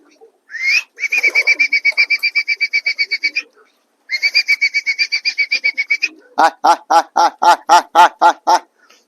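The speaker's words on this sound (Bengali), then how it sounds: "আস্তে আস্তে সব পায়রাগুলোই সেট হয়ে আছে" Pigeons in their loft give close, repeated bird calls: two long runs of rapid pulsed notes, then a louder burst of evenly spaced harsh notes.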